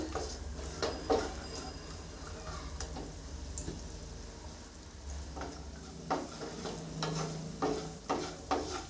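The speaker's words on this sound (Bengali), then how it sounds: "কাজুটা ভেজে নিব।" Cashews frying in a pan, a low steady sizzle broken by irregular ticking spatula taps and clicks against the metal, close and fairly quiet.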